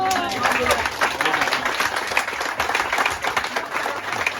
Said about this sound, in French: il va falloir quand même l'applaudir